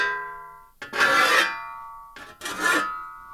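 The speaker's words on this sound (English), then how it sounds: "I'm just using a simple metal file here. It's a pretty coarse metal file, and I'm just doing long strokes along the shovel." Two long strokes of a coarse metal file rasp along the blade of an old rusty shovel, each a loud gritty scrape separated by a short pause, close up.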